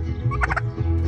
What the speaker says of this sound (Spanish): Les gusta cantar a los guajolotes.